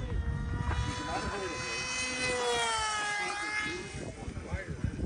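A helicopter sets down with a loud, close, steady engine whine whose harmonic tones bend and shift, over a rough low rotor rumble that eases off toward the end.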